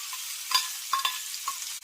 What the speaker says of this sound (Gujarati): તૈયાર કરેલી આદુ મરચાં અને લસણની પેસ્ટને ઉમેરી દઈશું.